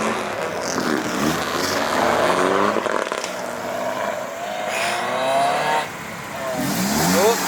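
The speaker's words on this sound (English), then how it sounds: "It's like a little motorbike engine." Toyota Altezza engine fitted with individual throttle bodies revving repeatedly at a car meet, rising and falling in pitch close by, with voices talking over it.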